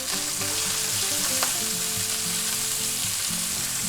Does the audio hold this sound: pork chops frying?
yes